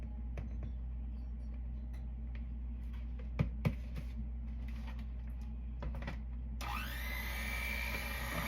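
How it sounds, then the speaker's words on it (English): Low mechanical hum with scattered clicks and knocks, then a kitchen blender mixing zucchini bread ingredients whirs up loudly near the end and keeps running. "I have to be really careful using my blender"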